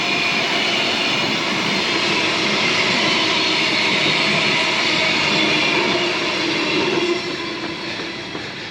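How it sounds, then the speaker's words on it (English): A train rumbles steadily past at close range, a dense continuous roar with rattling wheels on rails that holds for several seconds and then begins to fade, with no talking over it. "Let that train go past."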